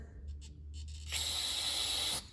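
Cleaner sprays in a short, close hissing burst into the carburetor of a Troy-Bilt snow blower, following a few faint clicks and handling noises.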